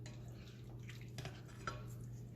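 Chicken thighs being flipped in a pan for a Korean chicken stir-fry, with soft scraping and clinking of utensil against cookware over a quiet, steady background hum.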